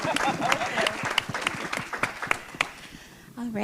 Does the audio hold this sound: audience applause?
yes